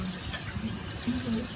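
Charred roasted pepper rinsed under a running kitchen tap, a steady soft wash of water hissing into the sink, fairly faint and continuous throughout, with light talk nearby.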